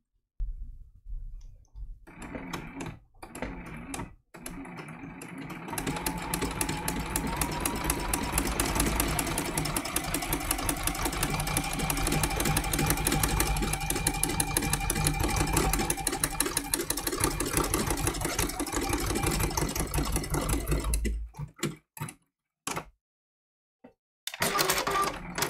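Sewing machine stitching raw-edge applique eyes on an angel design, a few short bursts, then a long steady rapid clicking run of about seventeen seconds that stops, followed by scattered taps.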